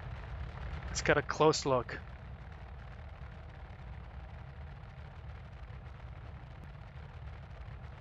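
In the Star Citizen video game, a size 5 torpedo launches with one loud, sharp whooshing blast lasting about a second, then settles into a steady low rumble while a person talks.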